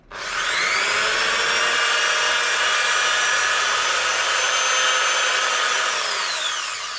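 Steady high-pitched whine of a polishing machine buffing a metal vape mod, running continuously for several seconds, loud and close, spinning up at the start and easing slightly at the end.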